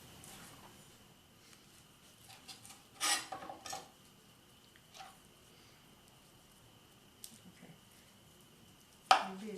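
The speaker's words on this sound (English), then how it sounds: "show you how quickly you can cut them, slice them" A knife cuts and slices through roasted giant beets on a board, giving a few short scraping strokes and clatters spread across quiet stretches, with one sharper knock near the end.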